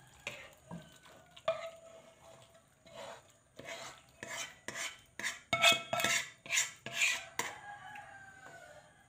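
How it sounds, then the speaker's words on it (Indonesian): Cooked gulai of chicken liver, gizzard and green beans is tipped out of a pan onto a serving plate, with a quick series of scraping, clattering spoon-on-metal strokes that build in rhythm. Nobody talks. "Lalu disajikan ke piring saji aja. Saya tumpahkan semuanya."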